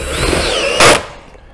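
Cordless drill with its clutch set driving screws through a snow guard into a metal roof, a short loud whir burst lasting a fraction of a second amid outdoor background noise, then stopping.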